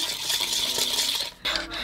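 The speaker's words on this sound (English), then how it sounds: "We're just gonna stir all the butter with the sugar so it becomes a creamy mess" A tiny hand whisk stirs butter with sugar in a bowl, giving a close, steady scraping and clinking for about a second and a half, then a brief lull before the stirring picks up again.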